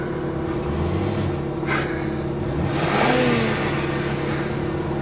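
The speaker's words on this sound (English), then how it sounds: "Revving his engine." A car revving its engine in traffic beside a low exotic car, with a couple of throaty rises in engine roar over a steady road drone, moderately loud and without talk.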